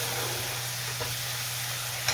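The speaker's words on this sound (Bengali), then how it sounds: "আর একটু কষিয়ে নেব।" Rajma masala with kasuri methi sautés in a pan, giving a soft, steady sizzle and hiss throughout that stays close and faint with no speech.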